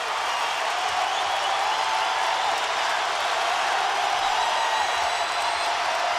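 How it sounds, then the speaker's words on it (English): A basketball crowd at Rupp Arena during a Kentucky versus Tennessee game, a steady, dense roar of cheering that holds at an even level throughout, heard from within the arena. "listen to this Rupp Arena crowd"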